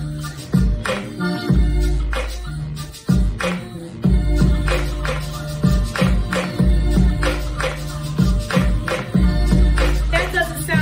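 DJ turntable mix with the second song dropped off the beat, giving loud, busy music with a heavy bass kick and clashing, uneven rhythm throughout, no speech.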